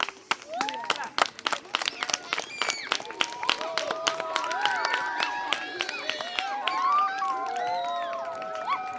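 Children and adults at a school closing ceremony clap in scattered, sharp bursts that build into steady applause, with excited voices and cheering rising over the clapping throughout.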